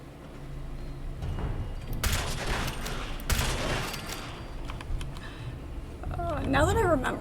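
Gunfire in Fallout 76, a couple of loud bursts of shots partway through amid game sounds, with a player talking over much of it.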